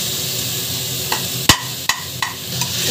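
Country tomatoes sauté in a pan for dhaba-style vegetable biryani, giving off a steady, close sizzling hiss broken by a few sharp scrapes and knocks as they are stirred.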